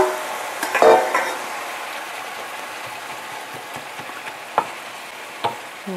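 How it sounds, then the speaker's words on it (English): Fresh spinach goes into a hot pan and fries with a steady sizzle, while a spatula scrapes and clicks against the pan at intervals, fairly close and alone without talking. "I will add now my spinach."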